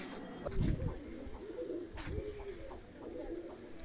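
Pigeons coo in low, rolling bursts nearby, repeating every second or so against a faint background murmur, as a few pigeons are handled and released.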